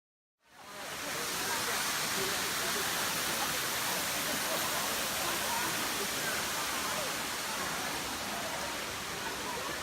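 A waterfall at Ein Gedi in Israel pours with a loud, steady, hissing rush of water that starts abruptly and holds constant throughout.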